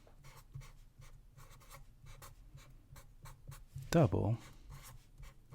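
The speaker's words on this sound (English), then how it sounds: "Let's write this down." Pen strokes on a homemade math game board make a run of soft, rhythmic scratches, close and quiet, while a voice briefly speaks partway through.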